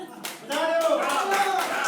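An audience claps at a Hindi poetry stage event in Pilibanga, scattered hand claps building into steady applause while a voice speaks over it.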